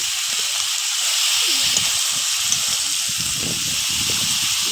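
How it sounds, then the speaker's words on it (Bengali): Bottle gourd greens (lau shak) sauté in a pan with salt and turmeric, giving a loud, continuous hiss close by, with faint low bumps of stirring underneath. "হলুদ, লবণ, কষিয়ে নেব সবজিটা।"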